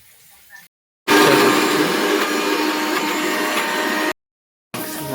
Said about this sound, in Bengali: ওই দেখো, করছে মিক্সচার করবো এখন